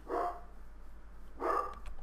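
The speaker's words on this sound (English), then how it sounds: "And my dogs are barking." Two short bursts of dog barking, one near the start and one after a pause of about a second, fairly distant and moderately loud.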